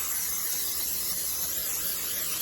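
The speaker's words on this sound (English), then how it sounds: "So now I'm gonna spray my casserole dish" A continuous aerosol cooking spray hisses steadily for a couple of seconds onto a casserole dish, a bright, airy rush that stays close and even throughout.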